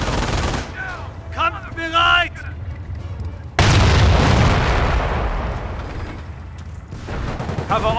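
In Company of Heroes, played with the Romania mod, gunfire and explosions crack and boom: a burst of shots early on, then a heavy blast that rolls into sustained battle noise.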